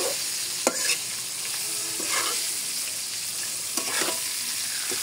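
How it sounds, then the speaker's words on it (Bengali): Fish frying in a pan gives a constant loud sizzle, broken by a few sharp clinks and scrapes of stirring, with no voices. "আস্তে আস্তে এখানে জাল হবে আর আপনার এই মাছের ফ্রাইটা হতে থাকবে"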